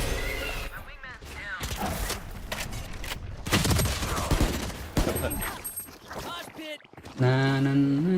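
Shotgun blasts and other gunfire crack in bursts during a Valorant match, loud and punchy in the middle of the stretch, while players talk over the action throughout.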